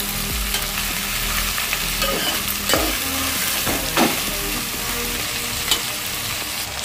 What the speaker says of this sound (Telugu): చిక్కుడుకాయలన్నీ వేసేసుకొని తిప్పుకోవాలి ఇవి కూడా బాగా కొంచెం ఫ్రై అవ్వాలండి